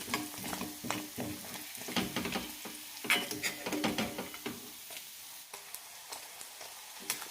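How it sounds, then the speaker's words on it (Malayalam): Paneer cubes frying in oil in a pan, a steady close sizzle broken by scraping stirs and spatula clinks, with no talk. "ബാക്കിയുള്ളത് കൂടി വറുത്തെടുക്കാം."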